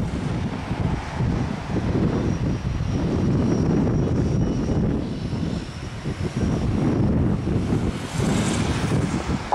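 Airliner taking off from Salvador airport, a steady loud roar of jet engines with wind buffeting the microphone throughout, rising and holding across the whole stretch.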